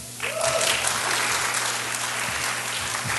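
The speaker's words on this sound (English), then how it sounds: "if you can entertain me for a moment, and just clap" An audience at a coding event claps together, a steady dense wash of applause starting abruptly and holding evenly loud for the whole stretch with no talk over it.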